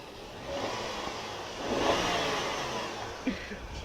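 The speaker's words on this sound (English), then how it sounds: "Rev your engine!" Car engine revving in a garage-style setting, a steady broadband roar that swells in the middle and then eases, with no talk over it.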